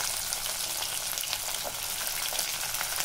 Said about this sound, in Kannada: ಇದು ಎಣ್ಣೆಯಲ್ಲಿ ಫ್ರೈ ಆಗಲಿ